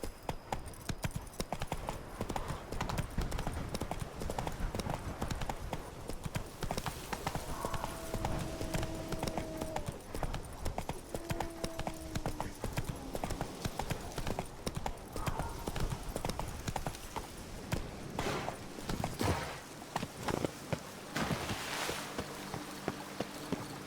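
Roach, the horse in The Witcher 3, runs with continuous rapid clip-clop hoofbeats on firm ground, loud and close, with faint game ambience and brief tonal cues behind it.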